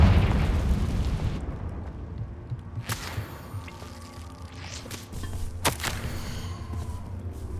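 In the Hogwarts Legacy video game, a Confringo spell explosion sets off a booming blast that fades into a rumble, then sharp pops and bursts follow, with footsteps, and no one speaks.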